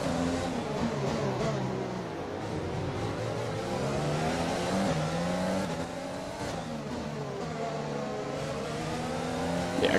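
A Formula 1 race car engine in an F1 video game, at the Singapore circuit, whines loud and close. Its pitch climbs and falls through repeated gear changes and revs, with no one talking.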